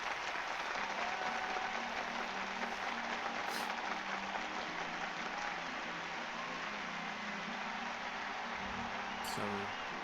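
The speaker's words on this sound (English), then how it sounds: "Some odd cheering." Crowd cheering and applause in the video game Final Fantasy XIV, a dense steady wash of clapping and voices that holds evenly throughout at a moderate distance.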